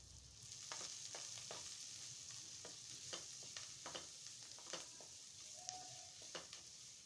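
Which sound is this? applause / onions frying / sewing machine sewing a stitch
onions frying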